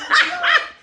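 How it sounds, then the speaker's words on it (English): A pet dog gives two quick, loud, close barks, one right after the other, with a brief trailing fade and no talking. "That's my dog."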